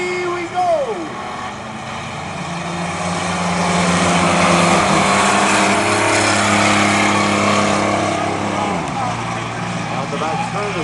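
Race trucks roar through a 10-lap qualifier at Ogden Speedway, engines droning loud and steady as the pack passes, pitch rising and falling with acceleration while an announcer talks over the noise.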